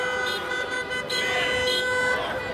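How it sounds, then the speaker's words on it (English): Car horns honk steadily and loudly in heavy traffic at a street protest in Minsk, Belarus, overlapping one another with a continuous rumble of road noise underneath. "There's some people honking horns down there"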